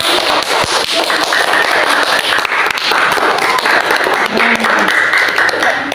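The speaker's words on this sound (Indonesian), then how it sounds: "Ayo beri tepuk tangan." A classroom of students applauds in a steady, loud patter of many hands, sustained and unbroken from start to finish.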